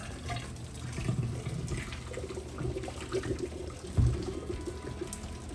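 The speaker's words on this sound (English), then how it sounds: "you're gonna use your little lid as a strainer" Hot water poured from a pot and drained through the holes of its lid, a steady close splashing and trickling stream with a few heavier gushes, moderately loud and without talking.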